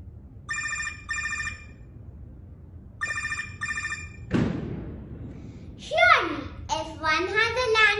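A landline telephone rings in two short trilling bursts, pausing between them, then a thump follows and a voice speaks.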